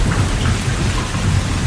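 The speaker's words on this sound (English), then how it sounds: "As they approach the airport, the rain isn't letting up." Heavy rain pours steadily with deep thunder rumbling underneath, loud and constant throughout, on an approach to the airport at Dubrovnik, with no voices.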